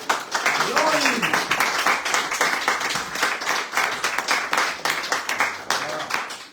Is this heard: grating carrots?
no